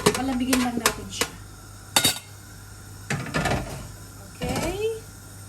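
Roast potatoes and parsnips are tipped and knocked onto a metal pan in a home kitchen, giving several sharp clinks and clatters in short bursts, with a voice talking in between.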